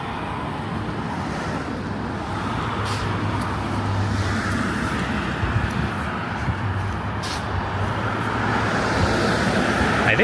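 A Donlands bus passes on an evening street in Toronto's east end. Its broad, steady traffic rumble swells gently near the end, heard at moderate distance with no voices.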